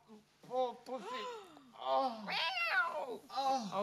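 A cat meows after being tripped over at a doorstep, several drawn-out, pitch-bending cries in a row, close and fairly clear.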